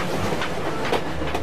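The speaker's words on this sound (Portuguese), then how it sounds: "Os trens precisam cruzar o país de norte a sul." A train runs along a railway with rhythmic clickety-clack wheel beats over a steady rolling rumble, close and fairly loud.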